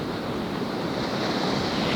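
Pacific Ocean surf breaking along the Baja coast, a steady broad wash of waves mixed with wind on the microphone, continuous and moderately loud with no talking.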